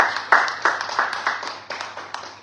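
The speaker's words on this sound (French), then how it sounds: "On peut l'acclamer, merci" An audience claps in applause for a speaker at a talk, with a steady patter of hand claps that starts sharply and thins out over a few seconds.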